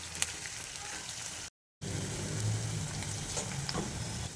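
Onions frying in oil for mutton biryani, a continuous soft sizzle close by, broken by a brief silent cut and then resuming a little fuller.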